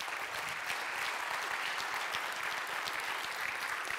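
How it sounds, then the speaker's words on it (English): An audience at an academic cryptography conference session applauds, a dense, steady wash of many hands clapping that lasts for the whole stretch at an even level. "Let's give them a round of applause"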